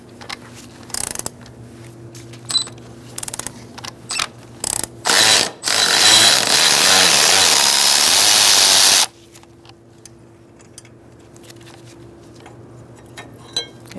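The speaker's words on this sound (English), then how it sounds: "Using a 14mm socket," A 14mm socket ratchet loosens the alternator bracket bolt on a 2000-2007 Ford Taurus 3.0L V6: a few short clicking bursts, then a sustained loud run of rapid ratchet clicks, followed by quieter scattered clicks nearby.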